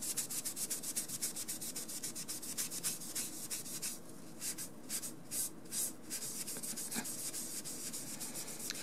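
Steady close rubbing and scrubbing on the plastic faceplate of a Pullip doll during cleaning, with a continuous soft abrasive texture and quick repeated strokes throughout.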